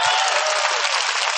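Sustained, loud applause from a large audience at a mushaira poetry gathering in Mahmoodabad, dense and steady for the whole stretch with no voices over it.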